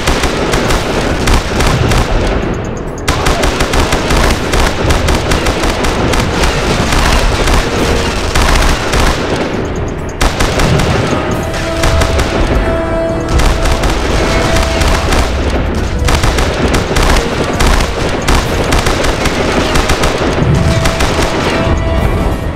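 Machine gun fire in the 2007 PC shooter Mortyr 3, loud rapid bursts and explosions hammering almost nonstop, with brief dips between volleys and no clear talking.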